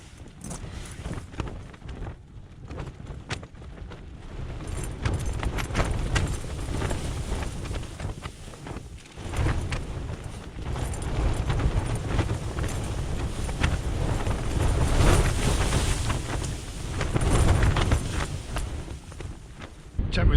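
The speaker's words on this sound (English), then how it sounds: "Some big gusts coming through now." Strong wind gusts batter a tent pitched at a winter mountain wild camp, a loud, continuous roar that swells and buffets in waves throughout.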